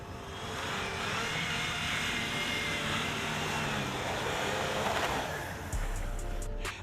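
A Land Rover Discovery's engine roars steadily at full throttle as the SUV strains up an off-road obstacle, a continuous loud broadband drone that ends with a sudden thump and a few scraping knocks.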